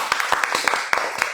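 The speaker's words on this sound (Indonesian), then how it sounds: "Tepuk tangan dulu Sobat Unas." A small audience claps at an informatics program livestream, about ten crisp, uneven hand claps over little more than a second, close and fairly loud.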